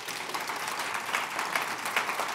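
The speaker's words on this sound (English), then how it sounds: "just a round of applause for the panelists who are amazing" An audience at a public panel discussion applauds the panelists, a soft, steady patter of many hands heard from a distance, fairly quiet and without talk.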